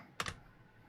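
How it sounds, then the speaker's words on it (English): A computer keyboard at a desk gives a quick double clack of keystrokes, close and crisp, then falls quiet against a soft room hiss. "my keyboard back here."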